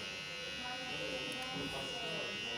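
A Yuma electric shaver runs steadily close by, giving a continuous bright buzz with a slight wavering as it moves over facial stubble, with no break for the whole stretch.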